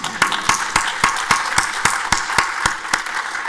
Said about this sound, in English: Now we should clap.